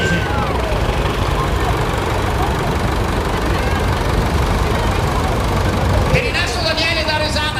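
A vintage OM 513-type tractor, built for the French export market, runs during a parade of vintage tractors at the Festa dea Poenta, a loud steady engine rumble under continuous talk and crowd noise.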